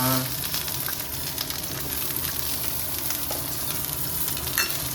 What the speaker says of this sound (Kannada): ಇವಾಗ ಈರುಳ್ಳಿ ಹಾಕೊಳ್ಳೋಣ. ಸಾಂಬಾರು ಈರುಳ್ಳಿ ಹಾಕೊಳ್ಳೋಣ.